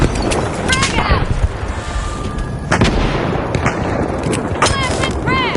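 Frag grenade blast and rapid gunfire in a video game, dense booms and shots layered with sharp ricochet whistles, loud and continuous under a player's shouting.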